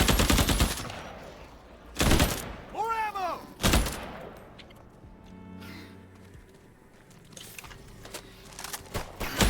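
Turret gunfire in the co-op shooter Earthfall, with loud rapid bursts of automatic fire close up, broken by pauses and mixed with game effects and a creature cry, with a voice in the background.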